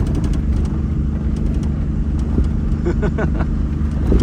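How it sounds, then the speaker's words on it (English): Car driving across a white salt flat on the Pan-American Highway route, giving a steady low engine and road rumble with faint tire noise, close and continuous without talk. "Just driving on salt."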